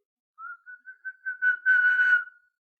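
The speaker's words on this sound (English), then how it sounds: "I whistle differently, though." A person whistles by drawing air in rather than blowing out, giving a rising series of short tonal notes that ends in a longer, breathier sustained pitch, close and clear with no talk.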